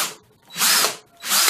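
Power drill with a spacer on the bit boring into wood, two loud sustained whirring bursts separated by a brief quiet pause, close and with no talking.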